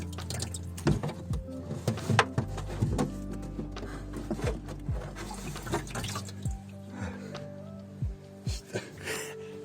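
Water running and dripping out of a body panel on a Toyota Supra MK3 under restoration. Close, irregular splashes and trickles come in uneven bursts over a faint background.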